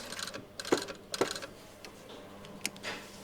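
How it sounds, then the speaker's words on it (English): A sewing machine stitches across a shirt sleeve placket, with a soft mechanical whir and a few light clicking ticks from close by. "Then we're stitching across to the point."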